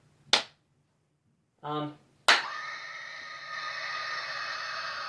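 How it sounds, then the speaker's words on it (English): Two sharp hand claps, sharp and close in a quiet room, followed by an animated life-size Jack O Lantern decoration starting up with a short sound and then a steady electronic hum. "let's see what happens when I clap my hands"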